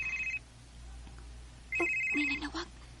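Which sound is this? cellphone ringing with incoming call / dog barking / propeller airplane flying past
cellphone ringing with incoming call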